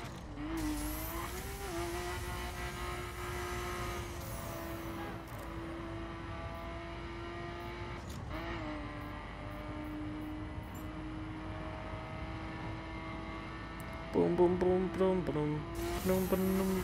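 Car driven in the racing game The Crew, with a steady engine drone that dips and rises as gears shift, then a louder burst of squealing, scraping tires near the end.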